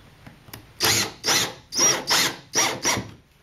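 A power drill drives small sheetrock screws into soft pine framing on a 1973 Egg Harbor boat's cockpit deck. Five loud, close whirring bursts follow one another in quick succession, each lasting under half a second.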